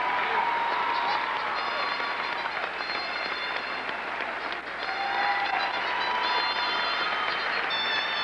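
A crowd at a 1996 Monmouth versus FDU college basketball senior night applauds in a sustained wash of clapping and cheering, with a public-address voice running underneath.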